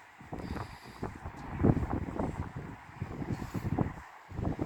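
Gusty wind buffeting the microphone with low rumbling bursts and rustle, steady throughout and fairly close, with no talking.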